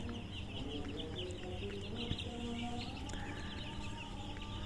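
A flock of broiler chickens clucks and murmurs continuously in a busy poultry shed, a dense steady chatter with occasional sharper calls.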